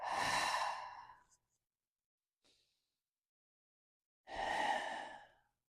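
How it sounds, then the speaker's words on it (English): During a yoga practice, one person takes a slow, deep audible breath, then a long quiet pause follows, then a second full breath comes. Both are close and clear against near silence. "Deep breath in, deep breath out."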